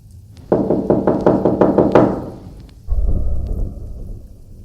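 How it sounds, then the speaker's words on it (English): Agitated knocking on a door in an audio drama, a rapid run of about eight loud, hard knocks followed by a deep rumbling thud and low ambience. "We hear a knock on the door about 10 seconds later. It sounds agitated."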